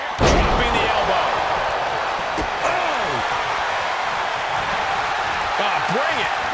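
Elbow drop impact in the WWE 2K24 wrestling video game, a heavy slam near the start followed by lighter thuds over loud arena crowd noise, with commentary voices talking throughout.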